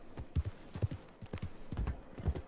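Horse hooves in the Red Dead Redemption II video game, a rapid, uneven clip-clop of close hoofbeats over a few seconds at low volume.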